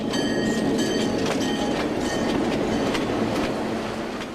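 A passenger excursion train to the Indiana State Fair rolls past nearby with loud rumbling and rhythmic clickety-clack of wheels over rail joints, steady throughout with no voices.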